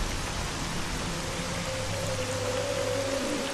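Rain in the survival game MISERY 2.0, a steady broadband patter of rainfall with a faint tonal hum joining partway, continuous and fairly loud with no speech.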